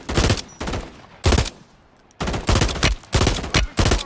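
Call of Duty gunfire comes as loud, close bursts, rapid chattering volleys separated by short pauses, one longer gap midway before a dense string of shots.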